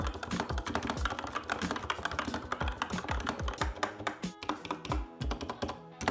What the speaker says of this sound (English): this is the sound test of the official Fortnite gaming keyboard